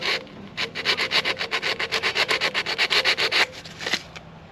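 A Holden ute's distributor rotor button is rubbed clean with rapid, even back-and-forth scrubbing strokes, close and crisp, about two dozen rasping passes in a steady rhythm before stopping.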